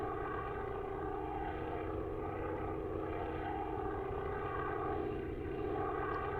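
A Spitfire flying in a combat video game, its propeller engine giving a steady, even drone that holds without break, fairly faint and alone.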